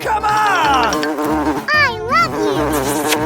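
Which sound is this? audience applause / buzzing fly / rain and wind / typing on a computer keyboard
buzzing fly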